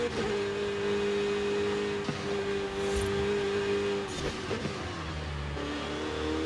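A Porsche race car engine in Forza Horizon 5 holds a steady, loud, buzzing drone. Its pitch dips and shifts partway through as the car is driven, heard alone with no talking.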